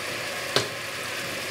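Food for a Bauerntopf stew sizzles and fries steadily in a pan, close and fairly quiet, with one brief sharper crackle partway through.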